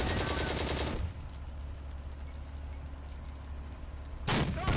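Heavy gunfire booms through the Steel Fury tank game: a loud sustained burst of rapid shots, then a rumbling low battlefield din, then another sharp burst near the end.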